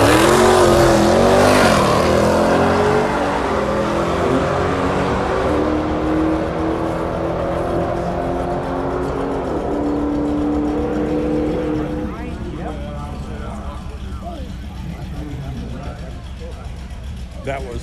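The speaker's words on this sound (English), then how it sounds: "Oh, here comes a truck." A truck accelerates hard down a drag strip at St Thomas Dragway on a late Friday night, its loud engine roar rising in pitch and then fading as it pulls away, with people talking nearby.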